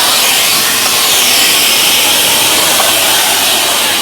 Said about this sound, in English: We've got the other blower